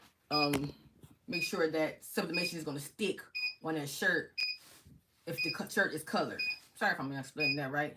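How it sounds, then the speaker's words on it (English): A heat press used for sublimating shirts sounds repeated steady electronic beeps in the background, running under nearly continuous talk from a nearby woman. "That beeping means that my heat press is ready"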